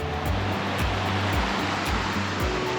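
The Nalón river flows through mountains in Caso, Asturias, heard as a steady, loud broadband rush of water. A low engine-like hum with regular pulses runs underneath, and there is no talk.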